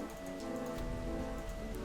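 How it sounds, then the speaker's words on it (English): Steady rain falls outside on hot days, a constant broadband patter that holds through the clip beneath ongoing game music. "The rain outside is getting particularly loud."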